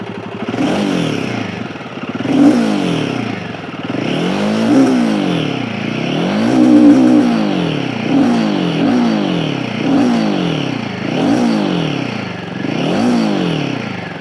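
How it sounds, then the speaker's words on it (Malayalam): A Royal Enfield Himalayan 450 motorcycle revs up and down in a steady, repeating rhythm of rising and falling engine and exhaust tone, loud and close, with no voices. "എക്സോസ്റ്റ് സൗണ്ടിനേക്കാളും എനിക്ക് ഈ ഒരു എഞ്ചിൻ്റെ നോയ്സാണ് ലൗഡായിട്ട് തോന്നുന്നത്"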